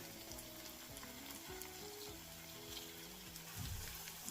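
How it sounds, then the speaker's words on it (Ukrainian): Broccoli fritters sizzling in a frying pan over medium heat, a dense continuous crackle and hiss close by with occasional bubbling pops and no talking. "на середньому вогні і з двох сторін по 3-4 хвилини смажитимемо до золотавого кольору."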